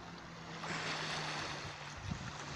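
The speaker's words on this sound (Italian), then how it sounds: "Sentite il rumore delle onde." Sea waves wash onto the shore at Isola delle Femmine, a steady hiss of surf that swells slightly and then eases, heard alone at moderate distance.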